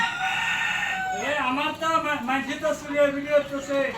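Native chickens on a poultry farm, with a rooster crowing clearly up close and hens clucking. A person talks over the birds through most of the clip.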